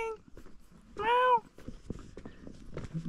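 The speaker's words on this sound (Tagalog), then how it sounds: "May pusa." A cat gives one loud, close, rising-and-falling meow, with soft scuffs and footstep-like taps before and after it.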